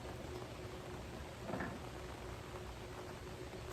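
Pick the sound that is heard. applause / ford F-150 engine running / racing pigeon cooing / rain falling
rain falling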